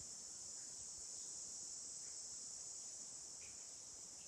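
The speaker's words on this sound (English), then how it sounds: "Like a cicada or something." A continuous high, shrill insect drone like a cicada, steady and unbroken, in otherwise quiet outdoor surroundings at the remote Umanak Lookout.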